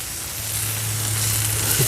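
Wagyu burger patty sizzling steadily on a grill with open flame, a continuous close, bright frying hiss that swells slightly as the patty is flipped, with no talking.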